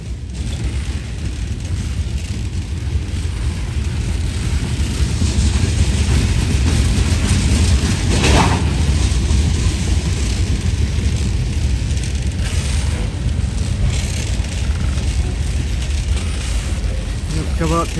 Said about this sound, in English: Whoa, another train and another train.